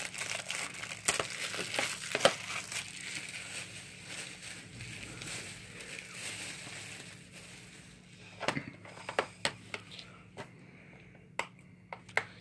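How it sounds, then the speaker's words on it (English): Plastic wrap is peeled off a DVD case with close crinkling and crackling, busy at first, then breaking into sharp separate snaps and tears toward the end. "unwrap that plastic"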